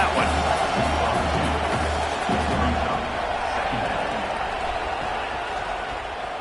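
Stadium crowd at a college football game, Oklahoma vs LSU, roaring and cheering steadily for the defense in the red zone, a loud continuous wash of voices that eases slightly toward the end.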